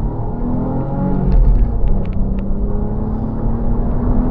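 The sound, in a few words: Ford Mondeo ST220 accelerating in first gear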